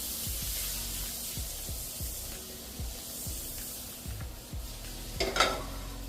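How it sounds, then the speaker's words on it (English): A tablespoon of butter melting and sizzling in a hot pan while making chicken marsala, a steady hiss with repeated soft scraping strokes and a brief louder clatter near the end. "at this point we're gonna throw 1 more tablespoon of butter in here"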